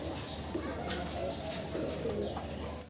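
Racing pigeons coo in soft, repeated throaty calls at close range, layered over a steady murmur of background noise, with faint voices nearby.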